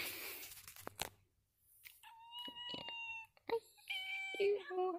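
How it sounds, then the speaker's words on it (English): A pet cat meows indoors, giving a few drawn-out, wavering cries close by, separated by short quiet gaps, with brief scuffling noises between them. "You sound like an annoying, stupid cat."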